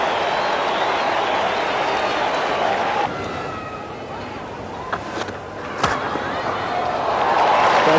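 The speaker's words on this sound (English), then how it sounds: "The crowd just realises there's a no ball and they've gone mad." A cricket stadium crowd at a 1985 Sri Lanka vs Australia one-day international roars after a no ball, a broad, sustained wash of cheering that dips, then swells again, with occasional sharp claps and thuds.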